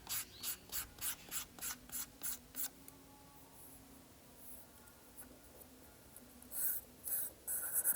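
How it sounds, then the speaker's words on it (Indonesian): Light sandpaper strokes rub the tip of a balsa hand-launch glider, a quick run of about ten even, rhythmic scrapes followed by quieter rubbing and a few more strokes at the end, close and fairly soft. "Untuk bagian paling ujung saya hanya amplas sedikit."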